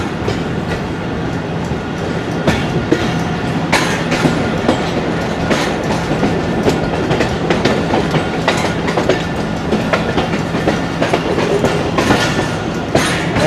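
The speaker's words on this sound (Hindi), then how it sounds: "रेलवे स्टेशन की हदूद में हम दाखिल होने वाले हैं" A train clatters along the rails at speed near Margalla Railway Station, Islamabad, with rhythmic clickety-clack of wheels over joints and a constant loud rumble throughout.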